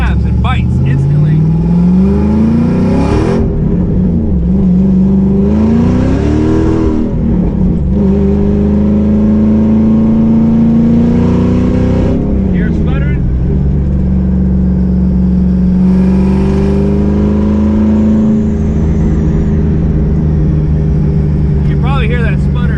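A 1986 Mustang GT engine runs loudly and continuously, rising and falling in pitch as it revs and stumbles with an uneven sputter, the drone heard up close throughout.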